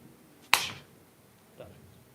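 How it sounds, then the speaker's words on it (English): A single sharp hand clap from a clapping push-up, crisp and close, followed about a second later by a softer thud as the body lands, with no talking. "So we can go clapping push-ups now."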